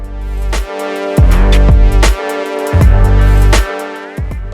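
A Lamborghini Gallardo V10 driven hard on a country road: loud, close engine roar climbing in pitch through several hard accelerations, each broken by a brief drop at the gear changes.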